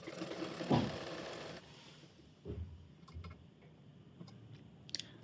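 A sewing machine stitching a strip of fabric onto a child's lehenga whirs loudly in a short run at the start, then gives way to quieter scattered mechanical clicks and handling noises.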